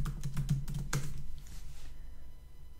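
Quick keystrokes on a computer keyboard while entering a terminal command, a short run of soft, close taps over low background hum, fading out after about two seconds.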